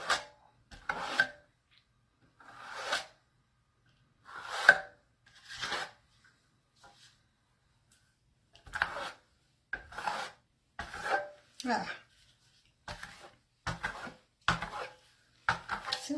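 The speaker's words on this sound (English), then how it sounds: "I'm holding my trowel at about a 45-degree angle" A trowel scrapes Venetian plaster across a stencil in a series of short, separate rasping strokes, about a dozen swipes with quiet gaps between them, close and dry-sounding, with no talking.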